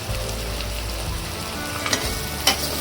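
Chopped onion sautéing in a pan for a Maharashtrian val bhaji curry, a steady close sizzle with a few soft stirring scrapes and clinks near the end.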